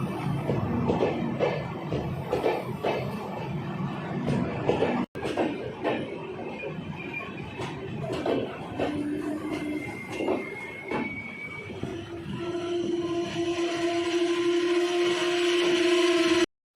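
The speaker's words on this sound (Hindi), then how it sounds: "मावली जंक्शन से departure. Narrow gauge train, metre gauge, Mavli junction से मारवाड़ जंक्शन तक।" Meter gauge train pulling away from Mavli Junction station, wheels clattering and rumbling with brief squeals, then a sustained tonal whine rising toward the end as it gathers pace; no talking.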